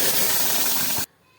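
Boiled tomatoes dropped into hot oil seasoned with bay leaf and dried red chili, giving a loud, close, dense hiss of sizzling that runs steadily for about a second and then cuts off abruptly.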